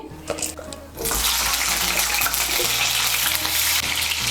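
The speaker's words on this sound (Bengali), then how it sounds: "এর মধ্যে প্রথমেই আমি আলুগুলো ভেজে নেব।" Potato pieces drop into hot mustard oil and burst into a loud, steady sizzle after a second of quieter clatter, frying continuously up close.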